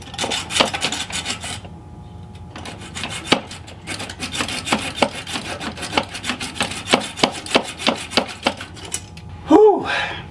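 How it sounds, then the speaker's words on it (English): Rapid rasping, grinding strokes from a Dremel metal cutting blade cutting into a GM OBS heater hose coupler in a tight engine bay, close and fairly loud, with irregular scraping bursts and brief pauses, no talking. "I think I'm gonna dig the metal cutting blade back out for a little bit"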